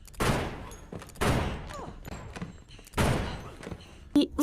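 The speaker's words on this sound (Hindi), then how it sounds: "तब कैरल उन पर गोलियां चलाकर सभी को मार डालती है।" Several loud gunshot bursts fire in a thriller movie scene, three heavy blasts spaced about a second apart with scattered smaller shots and thuds between, under faint voices.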